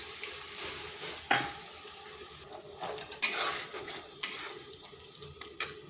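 Whisked sour yogurt poured into a pan with katla fish, bringing soft sizzling and stirring with sharp spoon-on-pan clinks and scrapes at intervals.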